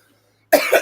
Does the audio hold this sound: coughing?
yes